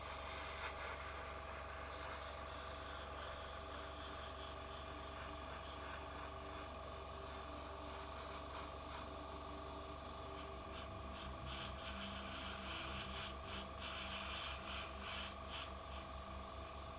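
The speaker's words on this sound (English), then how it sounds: "contrast paints go so nice through the airbrush" Steady close airbrush hiss spraying contrast paint onto a Warhammer 40k miniature, a continuous airy spray running throughout with slight pulses near the end.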